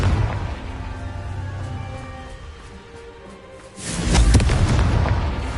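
A blast from the Confringo blasting spell, a sudden deep boom that bursts out after a low rumbling lead-in and then rolls on loudly.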